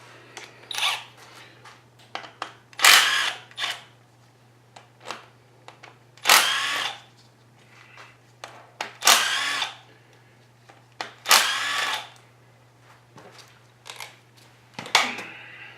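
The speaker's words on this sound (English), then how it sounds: "Now we'll remove the cam plate bolts" Power tool working loose cam plate bolts on an LS engine during a Foxbody Mustang swap build: a string of short whirring bursts of varying length, a few louder and longer, separated by brief quiet gaps, close by with no talking.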